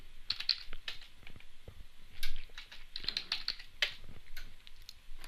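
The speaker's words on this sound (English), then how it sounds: "And for level 2, type your password." Someone types a password on a computer keyboard while logging into a SEL 2032 communications processor, producing a quick run of close, crisp key clicks with no voices.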